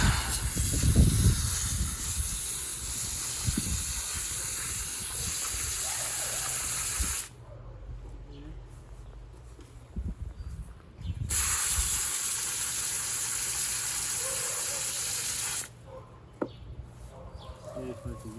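A garden hose sprays water over freshly harvested backyard garlic, a loud steady hiss running in two long bursts with quieter pauses between, and a voice speaking during the gaps.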